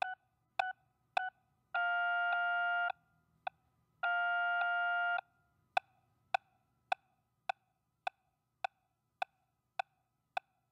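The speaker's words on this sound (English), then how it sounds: "Three short tones to get ready," Electronic beeps from a TrueCPR coaching device: three short tones, two long steady tones separated by a single blip, then a regular series of quick metronome-like clicks.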